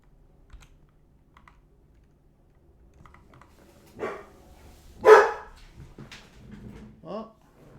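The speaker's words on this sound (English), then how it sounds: "Well, dogs are going crazy" Dogs bark in a few loud, sharp bursts near the end, after quiet keyboard typing, with a short break between the barks.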